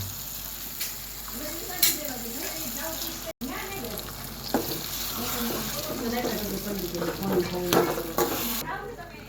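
Dal poured into a sizzling spiced tempering for Rajasthani-style dal baati, a steady close frying sizzle with watery splashing and stirring, plus a few brief clinks and louder bursts, and a voice murmuring in the background.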